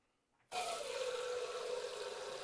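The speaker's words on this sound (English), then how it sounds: "So let me get my 7 cups of water." Water from a tap runs steadily into a cooking pot, seven cups filled for boiling pork in Korean cooking; a loud continuous gush begins abruptly and holds, slightly dropping in pitch as the pot fills.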